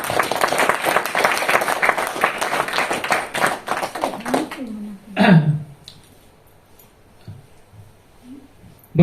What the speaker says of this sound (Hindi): तो महावीर स्वामी के लिए तालियां तो होनी चाहिए कि नहीं?